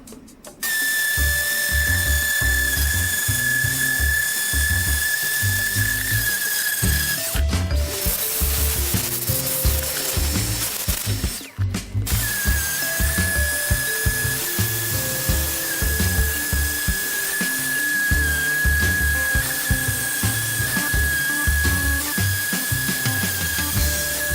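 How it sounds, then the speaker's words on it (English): A power sander works steadily across the plywood of a nested hexagon table, a loud continuous high whine with rough scraping and rubbing underneath, briefly cut off twice before running on. "So let's get sanding."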